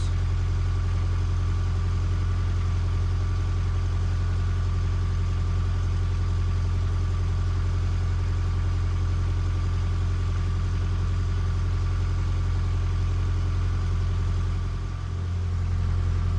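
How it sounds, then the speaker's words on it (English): A canal boat engine drones at low idle throughout, a constant deep hum with a faint mechanical vibration and no voices. "There's a funny noise coming from the engine"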